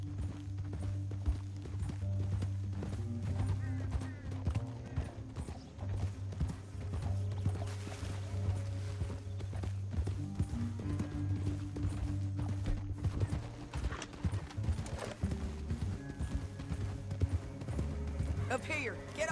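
Horse hooves clip-clop at a steady walking rhythm in the Red Dead Redemption 2 video game, a continuous moderate patter that runs beneath voices and background game sound.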